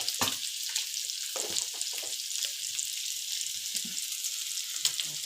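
Rice frying into sinangag with Himalayan salt in a pan, a close, steady hissing sizzle broken by soft scraping stirs, with no talking.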